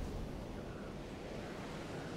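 Steady rushing water from a waterfall on a mountainside in Fortnite, a continuous broadband roar with no breaks, fairly loud and alone.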